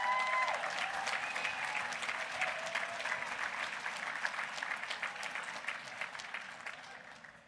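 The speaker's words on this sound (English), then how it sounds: "can we give a huge round of applause for the staff of Sun River who have taken amazing care of us." Sustained applause fills the banquet hall at an Oregon summit keynote dinner, broad and even at first and then gradually thinning toward the end, with no voices over it.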